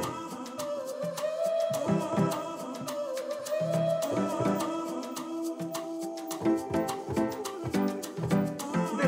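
Piano part from a studio track, playing steady chords inside a dense, loud mix with sharp percussive hits throughout.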